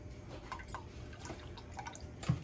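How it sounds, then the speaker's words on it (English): A cup of milk is poured into a pot for grits in a home kitchen, a faint, quiet trickle with soft drips and small splashes, followed by a light knock near the end. "So now I'm finna add a cup of milk"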